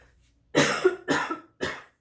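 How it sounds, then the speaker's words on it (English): Three separate close coughs from one person, the first drawn out and the next two shorter, with brief pauses between them in an otherwise quiet room. "I'm fighting back a cough."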